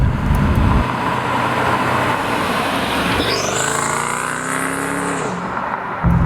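Mercedes CLK DTM race car driven hard: a loud, raspy engine roar climbing through the revs with a sweeping rising whine, then falling off at a gear change, heard close from the car.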